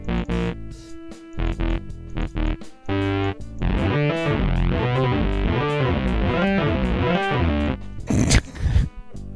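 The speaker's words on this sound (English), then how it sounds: "I programmed some MIDI bass, which sounds like this" A programmed MIDI synth bass line from the Yoshimi software synthesizer, heavily treated with fold-over distortion, plays a buzzing, gritty pulsing riff with rapid repeated notes, ending in a brief noisy burst.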